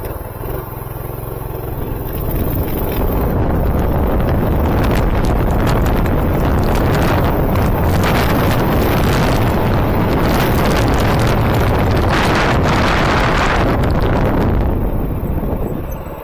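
A minibike fitted with a 212 engine is ridden fast. The loud, rough engine roar is mixed with heavy wind buffeting and runs almost continuously, close to the rider, for the whole stretch.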